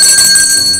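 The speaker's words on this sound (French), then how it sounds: "Cloche." A bell rings with sustained high metallic tones that hold steadily and fade slightly toward the end, with no voices over it.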